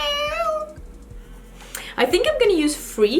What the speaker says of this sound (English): she can all of a sudden see all the birds, and she's meowing at them